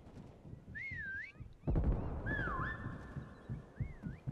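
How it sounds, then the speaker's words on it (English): Whistle blown during a game, several short warbling whistle tones, one longer sustained, over low rumbling background noise. "We're about to whistle right now again."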